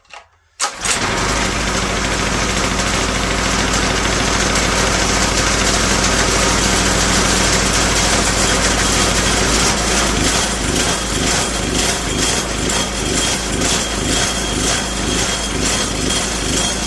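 A generator engine converted for go-kart or mini bike use starts up with a short burst, then runs loud and steady for the rest of the clip with no talking.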